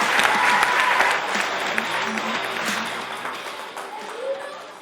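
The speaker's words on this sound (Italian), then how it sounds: "vi faccio un grande applauso di incoraggiamento perché è bravo" An encouraging round of applause from the audience on an Italian sports talk programme, a dense burst of clapping that stays strong for several seconds before tapering off, with a few voices mixed in.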